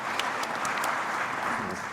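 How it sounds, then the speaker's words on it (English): An audience at an enterprise development panel at a business conference gives its panelists a round of applause, moderately loud, with a few sharp claps standing out and faint voices underneath. "A round of applause for our panelists."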